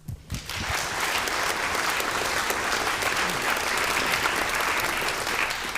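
A congress audience at a closing session breaks into full, continuous applause after a brief pause, dense clapping from many hands holding steady and loud throughout.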